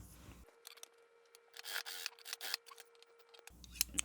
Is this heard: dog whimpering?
no